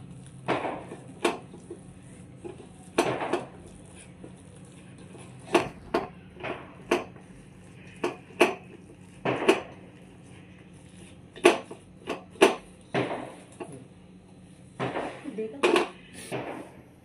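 A metal tava griddle is set on a kitchen stove among scattered, sharp metallic clanks and knocks of cookware, spaced irregularly with quiet gaps between them.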